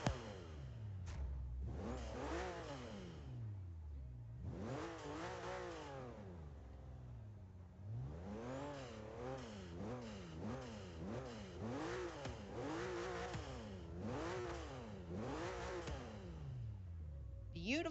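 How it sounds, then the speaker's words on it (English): A car engine in Forza Horizon 3 revs repeatedly, rising and falling in long sweeps with steady drone between pulls, close and continuous for the whole stretch. "And listen to the engine."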